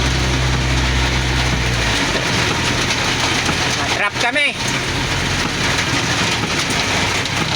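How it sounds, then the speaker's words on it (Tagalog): Heavy rain roars steadily near Jones Bridge in Manila, with a low engine rumble at the start, and a person speaks briefly midway. "Lakas na ng ulan oh."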